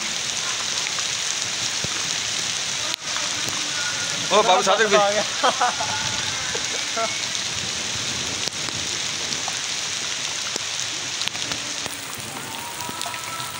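Heavy rain falling after months of drought, a dense, steady hiss of downpour on surfaces that holds for the whole stretch, with a voice calling out briefly near the start.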